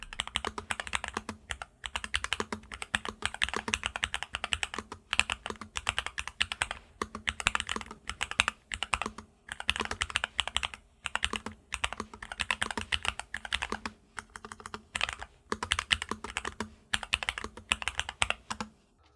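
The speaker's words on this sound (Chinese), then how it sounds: "有效减少了键盘的空腔音，让敲击声音更加清脆悦耳" Fast, crisp typing on a MelGeek MADE68 AIR magnetic-switch keyboard with Poron foam and silicone damping, close up, in dense bursts of clicky keystrokes with brief pauses between runs.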